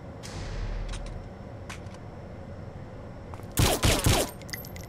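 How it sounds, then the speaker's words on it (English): Gunfire from a video game, Saints Row 4, aimed at shooting out a light: a quiet low rumble at first, then a loud, brief cluster of rapid shots near the end. "Let's first shoot out the light."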